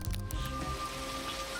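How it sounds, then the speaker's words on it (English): Rain pours down on a rooftop film set during the shooting of a final movie scene, a steady close wash of falling water heard alone with no voices. "Hauer, who played Roy Batty in Blade Runner, was filming the final rooftop scene with rain pouring"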